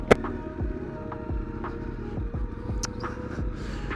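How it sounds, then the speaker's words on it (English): Motorcycle engine idling close by after being started, a low steady throbbing pulse with regular firing beats and a sharp click right at the start. "So let's just turn on the bike and let's get going."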